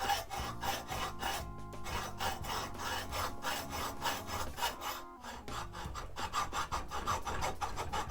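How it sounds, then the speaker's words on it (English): Hacksaw strokes back and forth across a cut line on a granite base for a fly tying vise, a steady close rasping that runs continuously with brief pauses between strokes, no talking. "I'm going to put my hacksaw on here. I'm going to get myself started with my cut line."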